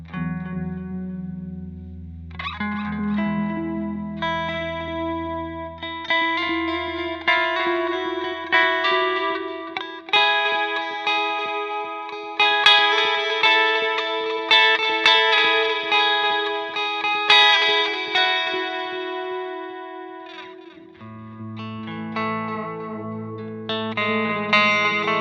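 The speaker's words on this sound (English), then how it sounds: "Let's try a low delay on the right and a high delay on the left." Guitar played through four delay pedals in quad stereo, a short low delay on the right and a long high delay on the left, with chorus-like shimmer and repeating echoes trailing sustained chords and melodic notes, loud and continuous.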